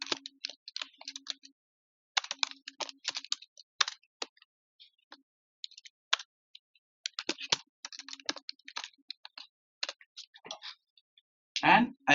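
Someone types a name on a computer keyboard in short bursts of light, quick keystrokes separated by pauses, close and fairly soft.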